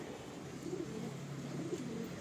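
A Kalanka pigeon coos softly in a few low, rolling phrases, faint and close against a quiet background hum.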